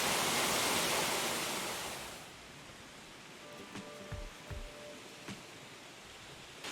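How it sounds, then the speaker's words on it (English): A waterfall pours into a deep, dark plunge pool, a broad steady rush that is loud at first and then drops to a fainter, more distant wash, with a few small knocks and clicks nearby. "there you go, we found the waterfall."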